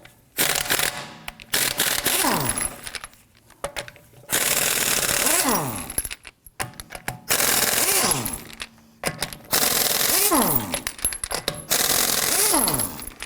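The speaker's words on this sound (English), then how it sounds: "We're going to use our 21mm socket, loosen and remove the lug nuts." A power impact wrench with a 21mm socket loosens and removes the rear wheel lug nuts on a 2018-2024 Toyota Camry: five loud, close bursts of rapid hammering rattle, each lasting about one to two seconds, separated by short pauses.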